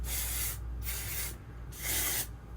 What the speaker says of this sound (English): It is a dry volume thickening spray from IGK.